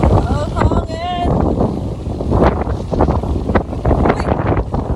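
Strong gusting wind at a hilltop windmill site in Pililla, Rizal buffets the microphone with loud roaring blasts, while people talk over it in Filipino.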